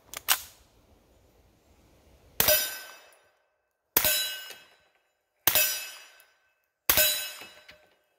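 Four sharp, loud suppressed gunshots spaced well apart, each with a short ringing decay, as a quiet gun is fired at a target about 20 yards away; a softer shot or click opens the sequence.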